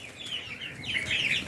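Several chickens in a pen cluck and chirp at close range, with a native hen kept among them, the calls overlapping and growing busier toward the end.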